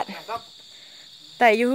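Crickets chirp during a nighttime cricket hunt in Pak Chong, Thailand, a steady high-pitched trill running throughout, with a voice talking briefly at the start and again near the end.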